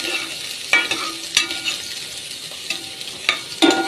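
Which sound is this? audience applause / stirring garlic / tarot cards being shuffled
stirring garlic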